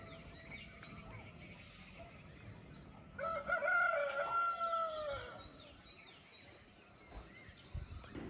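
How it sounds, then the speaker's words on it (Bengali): Birds calling around a quiet hillside homestay at Ramdhura near Kalimpong, with faint chirps and then a clear rooster crow in the middle, moderately distant over soft ambient hush. "ব্যাকগ্রাউন্ডে পাখির ডাকগুলো কি আপনারা শুনতে পেলেন?"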